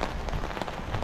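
Steady rain patters on surfaces during a walk outdoors, a dense close hiss of drops with no voices.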